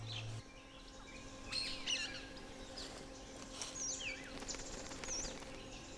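Birds call and chirp in the Manas forest jungle, several overlapping whistles and tweets at moderate distance over a constant insect-like drone and soft rustling.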